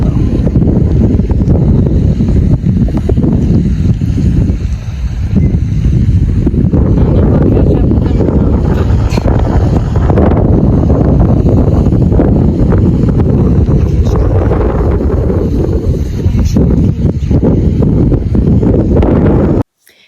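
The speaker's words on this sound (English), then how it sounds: "I figured y'all wouldn't be able to hear me over the wind" Strong outdoor wind buffets the microphone continuously, a loud broadband rumble roaring throughout with gusty swells, cutting off abruptly at the very end.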